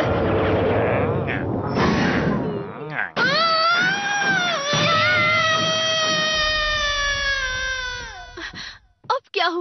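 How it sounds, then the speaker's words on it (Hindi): Nobita, the Hindi-dubbed Doraemon cartoon character, lets out a long, loud, high-pitched scream lasting about five seconds, preceded by noisy cartoon sound effects and dialogue. "नोबिता तुम क्यों चिल्लाए बेटा?"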